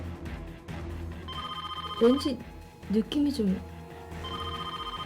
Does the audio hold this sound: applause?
no